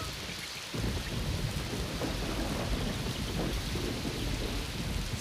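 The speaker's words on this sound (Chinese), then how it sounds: "下雨了。" Heavy cartoon rainstorm with thunder: a sudden loud burst of rain and rumbling thunder kicks in after a brief quieter moment, then a dense, steady roar of rain continues alone.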